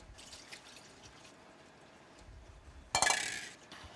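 Soaked rice poured into a strainer in a kitchen, with quiet handling at first, then a sudden splashing rush of water draining through the mesh that fades over about a second.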